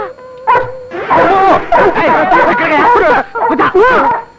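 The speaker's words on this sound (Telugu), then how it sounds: "నీకు కూడా మేనలాగా కుక్కలంటే భయమా?" A dog in a comedy scene gives loud, close barks and high yips in quick repeated bursts, with talking mixed in.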